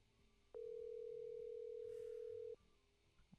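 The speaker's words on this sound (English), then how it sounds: "The ringtone." A single steady telephone ringback tone sounds while someone calls a person met the day before. The tone runs unbroken for about two seconds at moderate loudness, then stops, with a quiet room on either side.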